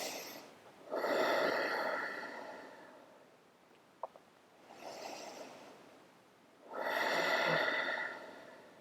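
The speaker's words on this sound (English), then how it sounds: "Breath full and deep." Deep, slow breathing during seated yoga practice, two full inhale-exhale cycles, close and airy, with quiet pauses between them.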